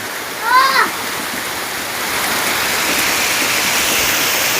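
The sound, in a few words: heavy monsoon rain pouring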